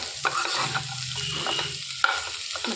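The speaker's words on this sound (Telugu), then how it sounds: "ఇలా మెదిపి పెట్టుకున్న ఆలుగడ్డని ఇందులో వేసేసుకోవాలండి. కలిపేసుకోవాలి." Mashed potatoes being stirred into hot tempering in a pan, with scraping and stirring strokes over a soft sizzle, close and fairly quiet.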